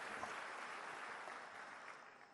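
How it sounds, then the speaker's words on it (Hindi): An audience at the Delhi Government's Happiness Utsav 2022 claps for Manish bhai, a faint, distant wash of continuous clapping that tapers off slightly over about two seconds. "मनीष भाई के लिए जोरदार तालियां।"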